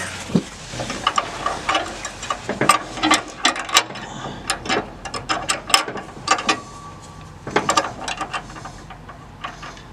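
Bolt being tightened on a trailer hitch with a ratchet wrench, a close series of sharp metallic clicks in uneven bursts with short pauses between strokes.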